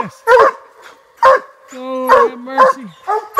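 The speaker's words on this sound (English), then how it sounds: "That's my buddy's walker dogs. They're treed in a mess" Walker hounds bay loudly and close at a treed animal while hunting, giving a rapid series of long, drawn-out howling bays with brief gaps between them.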